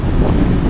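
Strong typhoon wind buffeting the microphone in a coastal area, a brief loud low roar filling the whole moment with no voices.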